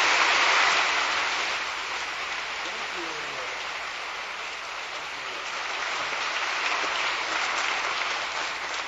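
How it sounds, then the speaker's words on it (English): Audience applause at a school assembly, a dense, steady wash of clapping from a large crowd that swells at the start and holds, with no speech over it. "let's have one more round of applause for the Assemblyman"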